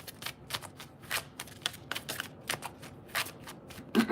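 Tarot cards are shuffled and drawn by hand, a close series of quick riffling flicks and soft card slaps in an irregular rhythm, with no talk.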